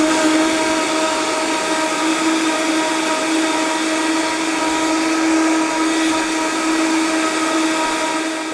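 A blender runs steadily on high power crushing soaked almonds for almond milk, a loud continuous motor whine with strong steady harmonics and a gritty grinding texture, no pauses throughout.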